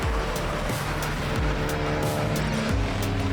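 Race cars corner hard at Circuit Zandvoort during a Dutch Racing Trophy event, close and loud, with engines climbing and dropping through gear changes and tires squealing as the cars are thrown across the rolling asphalt.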